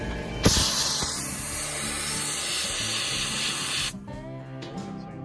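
A sandblaster fires abrasive sand at rusty, mill-scaled steel in one steady, loud, close hiss lasting about four seconds before cutting off abruptly.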